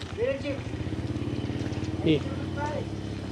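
A motorcycle engine putters steadily nearby at idle or low speed on a street in Angeles City, Philippines, its rhythmic throb under brief voices.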